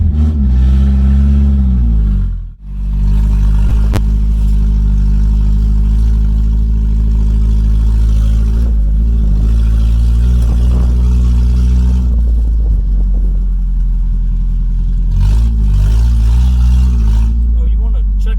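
Nissan D21 pickup truck running with no muffler on a road test, a loud, rough, low drone that rises and falls with throttle, heard from inside the cab under steady talking.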